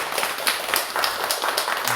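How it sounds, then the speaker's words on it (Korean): A church congregation at a Sunday worship service claps in welcome, a dense, continuous patter of many hands filling the room for a couple of seconds. "우리 환영의 박수 한번 치겠습니다."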